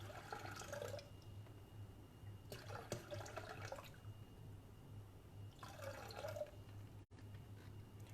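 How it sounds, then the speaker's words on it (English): Water pouring in three separate bursts into a Thermomix bowl, measured out to one liter, with short pauses between pours over a steady low hum. "We want a liter of water here."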